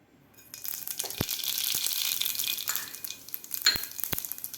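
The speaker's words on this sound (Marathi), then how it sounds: "अर्धा चमचा जिरे आणि मोहरी आपली व्यवस्थित फुललेली आहे" Mustard and cumin seeds spluttering in a small amount of hot oil while cooking a dry ridge gourd dish, a steady crackling hiss with a few sharp pops standing out near the end, close and alone without talk.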